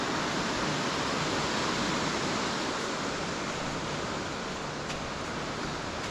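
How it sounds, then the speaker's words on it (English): A hillside stream tumbles down to join the River Wansbeck, giving a steady, dense rush of flowing water that stays constant and fairly loud throughout, with no voices. "you can see one of the streams that comes down the hill to meet the river over there"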